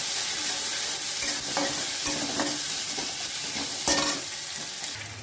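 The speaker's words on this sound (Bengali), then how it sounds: "আদা দিয়ে দিলাম আর একটু লঙ্কা বাটা দিয়ে দিলাম" Ginger and chili paste fry in a hot pan with a constant sizzle. Several scraping stirs break through it in an uneven rhythm, close up and loud, and no one speaks.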